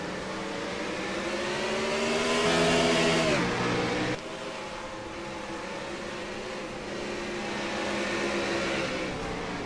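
Simulated race cars roar around Circuit of the Americas in a sim racing game, a continuous layered engine drone that rises, drops sharply as revs fall, then builds again, close and loud without talk.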